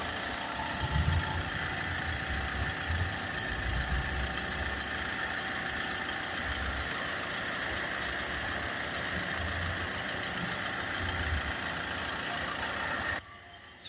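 A Ford Transit Custom 2.2 diesel engine idles steadily after DPF cleaning fluid has been sprayed in, a continuous close mechanical drone with periodic low throbs, cutting off abruptly near the end.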